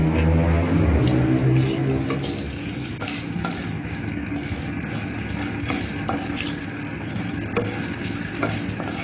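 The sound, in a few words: dried chillies and bay leaves sizzling in hot oil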